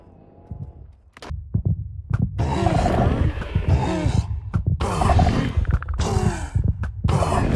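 Deep, rumbling growls and heartbeat-like thuds from many wardens clustered in one spot in Minecraft 1.20.4, loud and continuous with overlapping roars and pulses throughout.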